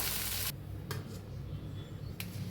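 Oil sizzling on a hot dosa pan, a steady close hiss of frying with a couple of short scraping or stirring sounds.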